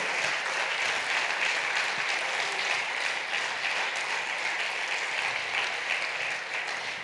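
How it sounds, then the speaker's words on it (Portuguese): A congregation applauds in a church service, a full, even wash of clapping from many hands that continues for around seven seconds without a break. "Dê uma salva de palmas a Jesus, porque Ele é Senhor absoluto"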